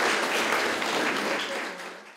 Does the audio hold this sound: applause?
yes